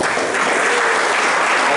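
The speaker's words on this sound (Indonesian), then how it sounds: "Yang percaya berikan tepuk tangan." Audience applause at a Christmas sermon service of a theological college, a short, dense burst of clapping that stays loud and even for under two seconds.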